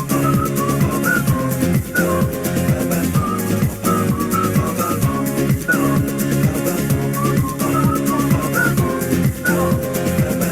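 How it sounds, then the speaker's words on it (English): Whistling recurs throughout over a steady, loud rhythmic backing of music, short whistled notes rising above a dense beat for about ten seconds. "A few more whistles."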